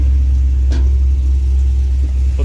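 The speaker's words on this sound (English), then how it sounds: "Seems to be idling just fine." A Cadillac CTS-V engine idles steadily, a loud continuous low rumble holding an even note throughout with a brief louder burst partway through and no talking.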